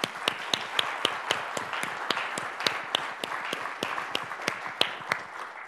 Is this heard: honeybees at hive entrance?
no